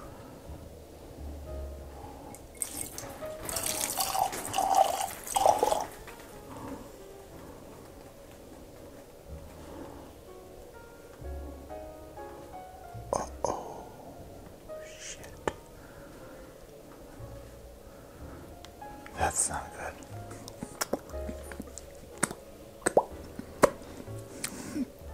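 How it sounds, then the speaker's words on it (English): Redwood Empire Lost Monarch American whiskey poured in a long stream into a glass, giving splashy plops and drips with occasional clinks and low voices nearby. "Sometimes you nail the long pour, and sometimes you don't."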